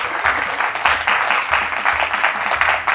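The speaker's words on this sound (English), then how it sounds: "can you guys give them a round of applause?" Sustained applause from a sizable crowd, dense and steady clapping filling the room without pause for a few seconds.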